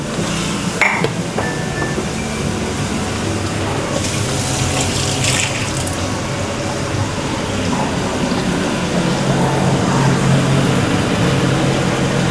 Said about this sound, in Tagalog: Then mag-add tayo ng hot water for soup.